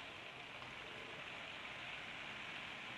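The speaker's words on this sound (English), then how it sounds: "But of course, it's raining." Steady, dense rain hisses evenly throughout, a continuous wash of drops with no voices, on a windy night.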